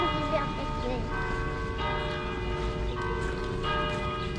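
A bell in Lucerne rings with sustained, resonant tones in the background, heard faintly under steady outdoor ambience.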